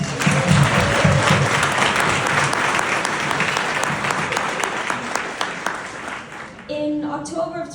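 Audience applause at a platelet donor recognition event, a dense wash of clapping that stays loud and steady for several seconds, then thins and tapers off as a voice begins speaking near the end.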